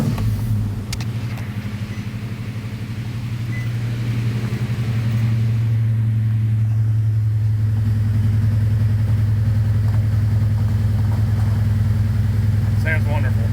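A Titan VK56 V8 swapped into a Nissan Xterra with a six-speed manual runs at idle, giving a steady, deep, even rumble that builds slightly in loudness and holds close and continuous with no talk over it.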